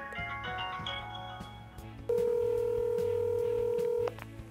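A phone call is placed: a few quick keypad dialing tones ring out over a low background hum, then a long steady ringback tone holds for about two seconds before cutting off.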